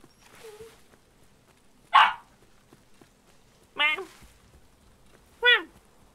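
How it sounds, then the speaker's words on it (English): A dog in the game Escape From Tarkov barks three times, sharp, loud and evenly spaced, after a brief whimper-like sound, with a quiet background. "What are you barking at now?"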